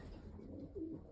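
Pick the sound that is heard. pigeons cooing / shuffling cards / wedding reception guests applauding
pigeons cooing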